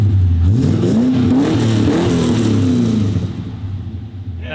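An LS-swapped car on its first start revs hard through a 2.5-inch stainless exhaust, a loud, close rumbling engine note that climbs and sweeps before easing back toward a steadier idle.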